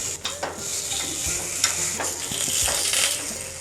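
Appam made from poha and besan batter sizzling in a covered pan on the stove, a steady frying crackle with a few soft scrapes and clinks as the pieces are turned.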